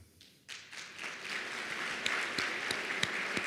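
Applause rises for award recipients at an LSU hall of distinction ceremony, starting quietly and swelling into steady crowd clapping with a few sharp, distinct claps standing out.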